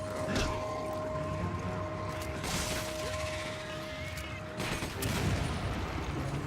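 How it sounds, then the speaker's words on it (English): Gunfire in Resident Evil 5 on Xbox One: a few sharp shots and crashing impacts break through a dense, noisy game soundscape, fairly steady and moderately loud with little talk. "Let's reload everything we got real quick, and we'll start firing."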